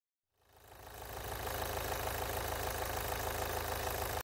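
A taxi engine starts up and settles into a steady, low rumbling idle with a fast, even chugging pulse, close and continuous.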